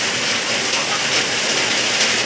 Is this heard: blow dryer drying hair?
no